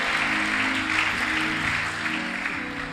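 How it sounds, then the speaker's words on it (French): A church congregation applauds and acclaims at a French-language service, broadband clapping holding steady with sustained tonal sound beneath, likely music, fading slightly toward the end. "mérite des acclamations"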